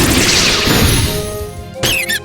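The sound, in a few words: energy explosion attack in the Manamon video game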